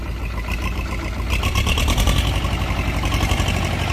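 A heavy-duty three-function farm implement from Giani Implements runs, a steady loud mechanical engine drone with a rhythmic pulsing churn that picks up slightly partway through, close by with no talking.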